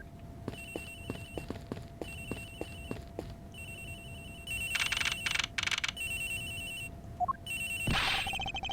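Telephone ringing in the Ace Attorney Investigations game, a repeating electronic ring in regular bursts with short gaps, alongside game blips and a brief rising chime near the end.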